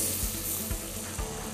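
Melted butter sizzles and crackles in a pan, a brief, steady frying hiss with soft stirring scrapes, heard close and without voices.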